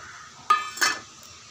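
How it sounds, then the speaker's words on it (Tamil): Whole spices, cinnamon and clove, are stirred in a pan over low heat, giving two brief metallic clanks of a utensil against the pan in otherwise quiet surroundings. "பட்டை ஒன்று, இந்த பூ, அப்புறம் 1 கிராம்பு இதையெல்லாம் போட போகிறேன். சிம்மில் வச்சு தானுங்க"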